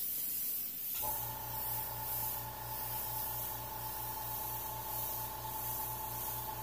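Airbrush spraying paint through a bent needle, a steady hissing spray with a faint rhythmic pulsing sputter underneath, starting abruptly after a quiet second and continuing close and loud.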